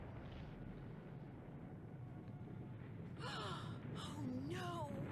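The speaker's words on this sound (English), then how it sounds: "That's an avalanche, Nancy." A snowy avalanche in the Nancy Drew game White Wolf of Icicle Creek rumbles low and steady, then sharp gasps and whooshing effects rise over it toward the end.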